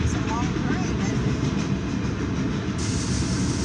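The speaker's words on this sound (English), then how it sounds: "Because it's a long train, isn't it?" A long CSX freight train rumbles past steadily at close range, wheels clattering over the rails in a continuous heavy roar.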